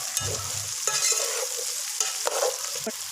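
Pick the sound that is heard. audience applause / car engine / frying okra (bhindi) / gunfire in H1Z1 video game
frying okra (bhindi)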